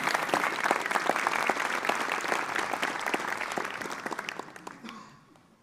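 An audience applauds to welcome back the Pcola Bay Harmonizers at a Christmas concert, a dense, steady round of clapping that holds for about five seconds, then thins and fades out.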